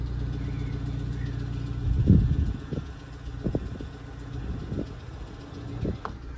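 Suzuki Swift Sport engine idling with a suspected valve-clearance fault, a low steady hum broken by a handful of sharp, irregular ticks and knocks from the top end, recorded close up.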